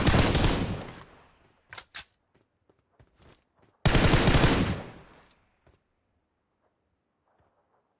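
Video game gunfire comes in two long, loud bursts of rapid automatic shots, separated by a few isolated single shots and quiet gaps, with another lone shot at the very end.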